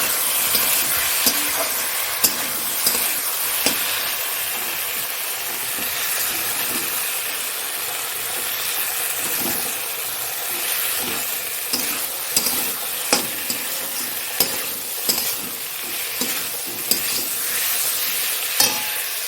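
Chopped tomato sizzles in hot oil in a pan for chicken curry, with a steady fry hiss and repeated scraping and clacking of a spatula as it is stirred, close and continuous.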